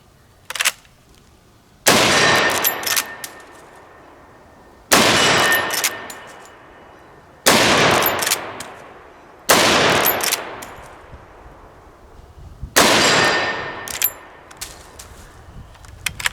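A Marlin 336 lever-action rifle fires five loud, sharp rounds spaced about two to three seconds apart, each crack followed by a decaying echo, with no talk.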